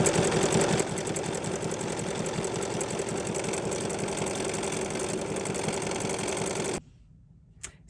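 A sewing machine stitches a collage applique onto a holiday postcard, a loud, steady rapid whir running close for several seconds before cutting off into near silence with a small click.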